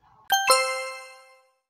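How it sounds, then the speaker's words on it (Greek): A mobile phone rings with a clear two-note chime, two bright struck tones in quick succession that ring out and fade over about a second, alone against silence. "Εκείνη τη στιγμή χτύπησε το κινητό της Μπρι."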